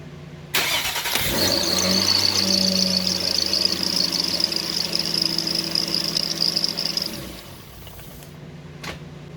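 A Nissan Altima engine fires up on a test start and idles steadily at close range with a whining note, then shuts off near the end.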